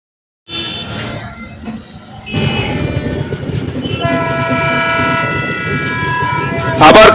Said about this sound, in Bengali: আবার ক্রসিং, আবার ট্রেন।